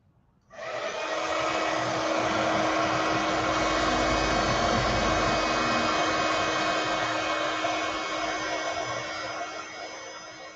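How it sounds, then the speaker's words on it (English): A heat embossing tool blasts hot air with a loud, steady fan roar that kicks in abruptly after a moment of quiet and runs on unbroken, easing slightly toward the end. "I'm just going to heat emboss this. A little bit of noise."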